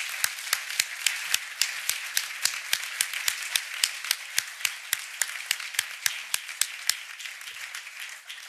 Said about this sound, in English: I want one more round of applause for our champions of change